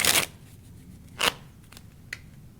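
Playing cards shuffled in a few quick riffling bursts at close range, a loud initial flutter followed by two shorter snaps with quiet pauses between.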